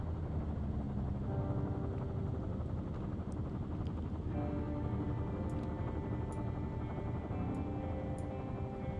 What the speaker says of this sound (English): Is that the helicopter?